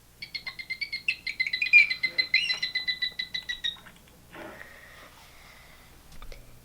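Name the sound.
bottlenose dolphin sound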